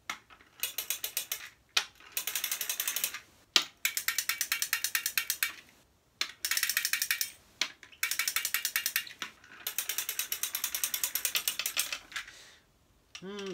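Thomas & Friends Plarail toy train motor clicking and rattling in rapid ratchet-like bursts, running in several close, loud stretches separated by short pauses.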